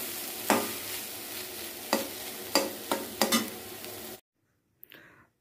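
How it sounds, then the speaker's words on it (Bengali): Grated coconut fried in a pan and stirred, with five or six distinct spoon scrapes over a steady sizzle. The sound cuts off abruptly partway through, leaving near silence apart from a faint tap. No voices. "এখন আমরা নারকেল ভাজতে শুরু করেছি, নারকেলটা ভালো করে ভেজে গুড় দিয়ে আমরা একটা নারকেলের পুর বানিয়ে নেব"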